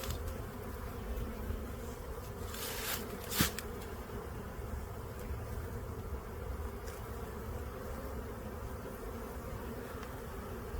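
Honey bees buzzing steadily around an open hive box coated with propolis, a soft, continuous drone heard close by, with a few brief louder noises briefly rising above it.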